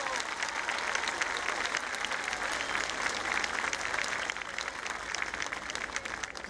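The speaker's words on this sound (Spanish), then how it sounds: "Así que un aplauso para Don Carlos Monte." A festival audience applauds, dense sustained clapping from a large crowd that fills the whole stretch evenly, loud and continuous, with faint voices mixed underneath.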